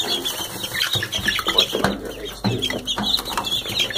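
Two-week-old Barred Rock chicks cluck and peep in a busy, overlapping chatter, close by, with some soft rustling in between.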